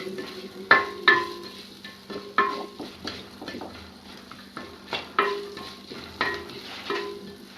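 Coconut pieces sizzle in a hot pan while a spoon stirs and scrapes against the metal in irregular bursts, close by, with no talking.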